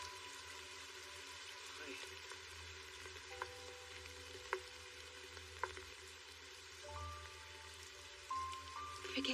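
Steady rain falls in an outdoor scene, a continuous soft hiss of drops with a few sharp taps and faint tonal sounds over it.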